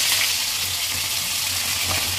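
Thick-cut bitter gourd (uchhe) frying in oil for shukto, a steady close sizzle that holds at an even level from start to finish.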